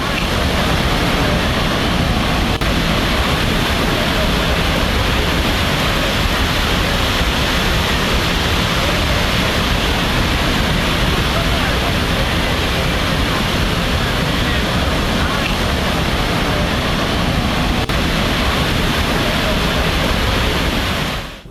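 Dense, steady roar of floodwater rushing through a flooded Nepal town after a flash flood, broadband and unbroken at close range with no pauses or talk throughout.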